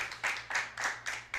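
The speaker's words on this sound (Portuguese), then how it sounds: "Eu quero primeiramente uma salva de palmas para o nosso Deus, bem forte" A few sharp, rhythmic hand claps at a church service, about four distinct beats, fairly faint and with no voices over them.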